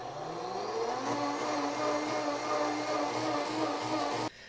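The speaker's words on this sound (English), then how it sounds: "if I put water and fumed silica in a blender and then mix it up" A blender whirs loudly and continuously as it mixes water and fumed silica, its motor pitch rising in the first second, then holding steady before cutting off abruptly near the end.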